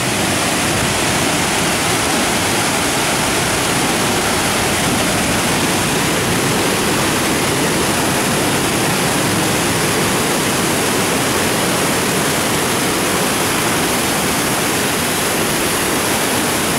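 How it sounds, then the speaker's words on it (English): A waterfall inside Smooth Cave roars as a loud, steady, unbroken rush of falling water that fills the whole stretch, with no voices over it. "there was a waterfall in here."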